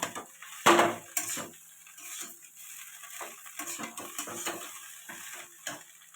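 Flattened rice pulao ingredients fry in a pan with a soft sizzle, broken by one loud clatter and a run of scattered utensil scrapes and taps, fairly quiet overall and with no voices.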